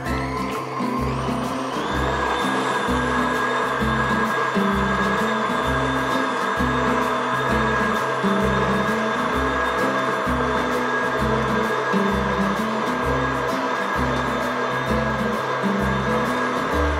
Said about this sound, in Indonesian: Ini proses pengocokan telur yang sampai mengembang kental.